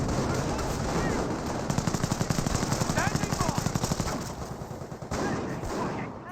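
Sustained machine gun fire from an MMG carrier in the real-time strategy game Company of Heroes, rapid steady bursts of rattling shots with battle noise beneath and brief speech over it.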